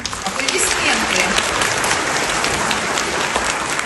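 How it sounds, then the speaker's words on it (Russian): A theatre audience breaks into loud, dense applause as a touring South Ossetian state drama theatre opens its season in Kemerovo, an unbroken roar of clapping throughout. "Аплодисменты"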